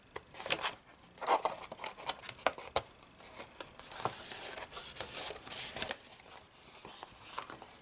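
Scissors snip paper while a gift box for travel wipes is being made, a string of light, close cuts and rustles at an uneven pace, fairly quiet throughout.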